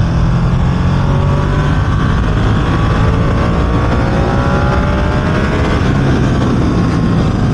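A Ducati Streetfighter V2 motorcycle pulls hard in third gear, its engine roaring loud and steady at close range without a break, with heavy wind rush over the top throughout.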